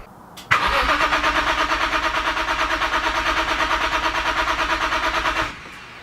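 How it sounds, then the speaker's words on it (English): A BMW E46 M3 with its S54 engine cranks for about five seconds without catching, a loud, close starter whirring in a steady rapid rhythmic pulse that begins with a click and then cuts off. "we have to run the car for 5 to 10 seconds to drain out all of the fuel from the fuel rail"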